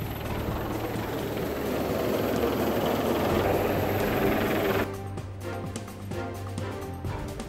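Coast guard rescue helicopter at sea, a steady loud rotor and engine drone that fills the first five seconds and then cuts to a quieter background with faint clicks.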